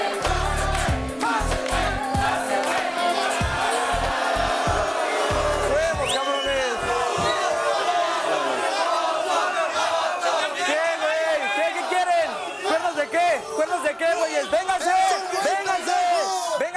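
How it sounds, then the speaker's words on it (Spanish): Audience at a live show cheering and applauding, a loud sustained crowd roar of whoops and yells with clapping that fills the whole stretch without a break. "Un aplauso para Efraín, que venga adelante."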